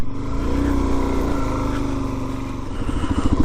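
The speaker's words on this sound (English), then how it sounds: "The old truck just left." An old pickup truck drives away from an abandoned house along a backcountry route, its engine a loud, rough, throbbing drone that holds steady and pulses slightly toward the end, with no talk.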